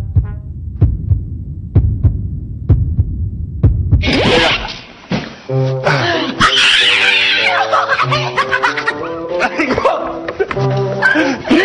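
A thumping heartbeat sound effect pulses steadily for a few seconds, then gives way to loud music, laughter and excited voices in a reality-show house.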